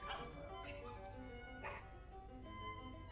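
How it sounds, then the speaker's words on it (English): A dog gives a few short yips and barks mixed with high whimpering, fairly close, with some faint background noise. "That's a dog."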